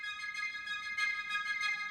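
Woodwinds play short staccato notes from a film score, a faint, steady string of detached, bright pulses in an even rhythm, heard alone without voices.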